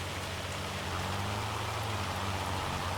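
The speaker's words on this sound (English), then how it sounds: "Looks like rain." Steady rain falls in Farming Simulator 25, a dense, even hiss of drops on surfaces with a low engine-like hum underneath and no talking.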